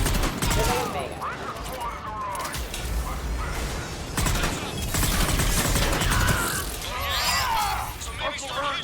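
Rapid gunfire bursts and scattered single shots crackle through a firefight in the video game Mass Effect 3, loud and continuous, with a voice speaking over the shooting.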